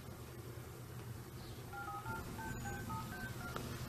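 A telephone is dialed, giving a quick series of distinct keypad tones in the second half over a low background rumble, fairly faint, with a brief click among them.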